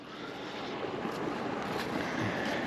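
Rainwater pours steadily into a newly dug pond near woods, a continuous rushing, splashing wash with no pauses.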